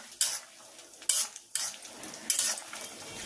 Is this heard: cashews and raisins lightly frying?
yes